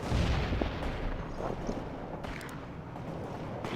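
A missile barrage in World in Conflict sends heavy, rumbling booms and dense artillery-like blasts, loudest at the start, then a continuous thundering roll with scattered sharper cracks.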